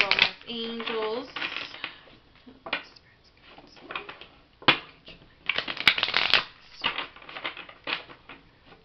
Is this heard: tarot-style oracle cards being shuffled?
yes